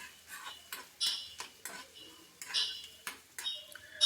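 Onions fry with garam masala powder while a metal spoon stirs and scrapes against the pan in irregular clinking strokes. A faint sizzle sits underneath.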